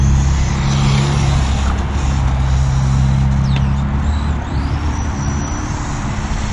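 A Team Associated Apex2 Hoonitruck 1/10 RC truck drives nearby, giving a continuous loud motor whine with steady low rumble and shifting pitch throughout, no talk over it.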